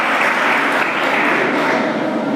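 An audience applauds warmly to welcome a chairman at a youth dialogue event, a dense, steady burst of close clapping filling the whole moment.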